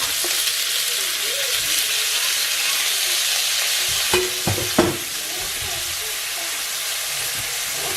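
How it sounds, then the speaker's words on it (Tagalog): Prawns fry in a little oil in a pan for Filipino palabok, giving a loud, steady sizzle with a few brief scraping stirs midway. "Tsaka, itong prawns po natin. Ilagay lang natin sa gilid para maluto."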